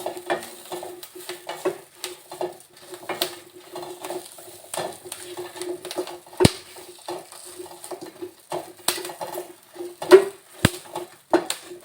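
Green chilies fry gently over low gas in a pan and are stirred, giving a soft crackling sizzle punctuated by repeated scrapes and clicks of a utensil against the metal, close by and without speech.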